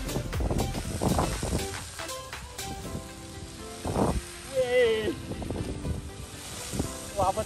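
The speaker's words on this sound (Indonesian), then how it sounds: "Anginnya luar biasa." Strong wind gusts buffet the microphone in an outdoor field where a plastic bag dragon kite is being flown. The rumbling bursts are uneven, with scattered clatters and a brief voice.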